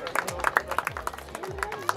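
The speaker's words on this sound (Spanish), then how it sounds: "Un aplauso enorme" A crowd claps and cheers at a motocross championship trophy ceremony, with fairly close, uneven applause running under a voice over a loudspeaker.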